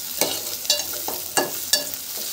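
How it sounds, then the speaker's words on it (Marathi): Onions sautéing in a pan over a wood-fired chulha for dry mutton curry, a steady sizzle broken by several spaced spatula scrapes and taps close by. "अशा प्रकारे मस्त कांदा परतून घ्यायचा आहे."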